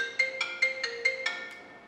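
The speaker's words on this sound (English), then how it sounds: "As soon as I say catch you next time, the phone rings." A phone ringtone chimes in a steady repeating pattern of six or seven quick tonal bursts, clear and fairly close, with no talk over it.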